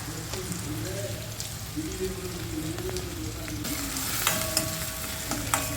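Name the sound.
peas frying and stirred in oil for mutter paneer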